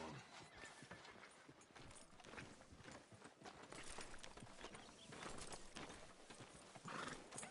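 Horse hooves in the video game Red Dead Redemption clip-clop steadily at a walking pace, fairly close, with a brief whinny near the end.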